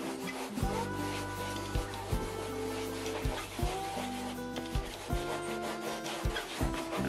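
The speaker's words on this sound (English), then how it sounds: "You just want to rub it in." A rag rubs stain into an old leather saddle bag in steady, repeated strokes, a close scuffing swish that keeps a regular back-and-forth rhythm with no voices.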